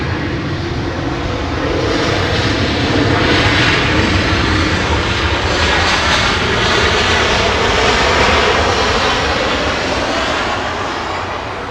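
United Airlines jet departing Los Angeles International Airport on a Honolulu-bound flight, a loud, continuous engine roar that swells and holds steady throughout, with no talk over it.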